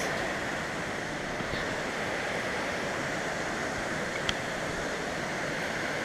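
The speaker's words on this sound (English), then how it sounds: "Wow, this is quite the waterfall here." Steady broadband roar of a waterfall viewed from a railed lookout on a sightseeing hike near Ironwood, continuous and fairly close, with a faint click partway through and no talking.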